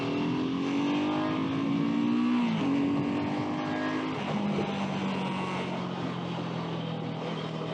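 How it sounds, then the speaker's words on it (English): A BSA Gold Star motorcycle engine revs hard accelerating out of a corner, climbing in pitch, easing briefly before pulling again, loud and steady with wind rush throughout. "I'm going to come through this corner and just get on the gas"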